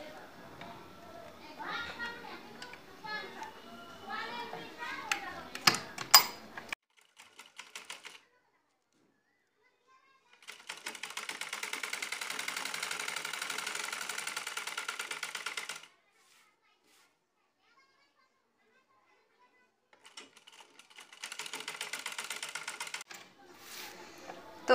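A sewing machine stitches trim onto a kameez neckline in two sustained runs of rapid, even mechanical clatter, separated by quiet, with someone talking before the stitching.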